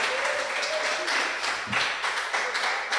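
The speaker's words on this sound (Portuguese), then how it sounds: "Pode aplaudir o Senhor Jesus." Congregation in a church service clapping together for several seconds, a steady mid-distance wash of applause with faint voices mixed in.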